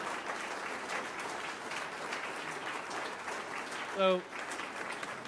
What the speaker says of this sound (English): Well, everybody, let's give a big round of applause.